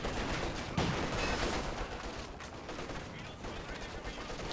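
Dense artillery and gunfire from a tank commander barrage in the Company of Heroes 2 video game, a continuous loud rumble of blasts and shots with a sharper impact early on.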